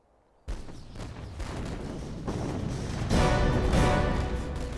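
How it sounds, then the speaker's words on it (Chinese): Artillery bombardment in a war film opens with a sudden heavy boom, followed by a sustained rumbling roar of massed gunfire and explosions that swells louder toward the end. "炮击已经开始了，"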